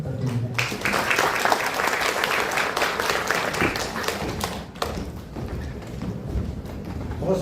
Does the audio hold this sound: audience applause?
yes